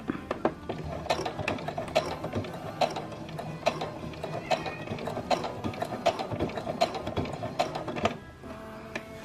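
A domestic sewing machine stitches a zigzag seam on a bra, giving a steady run of close, rapid mechanical clicks and whirring with a brief pause near the end and no voices.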